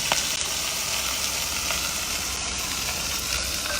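Tomato paste sizzles steadily in a camp pan as it is given a quick stir, a constant close frying hiss with no voices.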